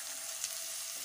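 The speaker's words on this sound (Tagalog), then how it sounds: "Kaya lagay na muna natin yung ating bawang. Yan, sabay na rin natin yung sibuyas." Garlic and onion fry in a pan for a Filipino sarciado of galunggong fish, giving a steady, close hiss of sizzling oil with one brief tick partway through, no voices.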